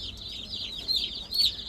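Newly arrived meat-bird chicks cheep in thin, high-pitched peeps, a busy cluster of calls with two sharper bursts standing out, fairly close and unaccompanied by speech.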